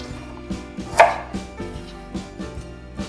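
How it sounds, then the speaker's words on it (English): A knife cuts burdock root on a cutting board in a steady run of crisp, close chops, about three per second, with one sharper knock partway through and no voices. "Cut them in like this, you know? So it's easier to peel the skin."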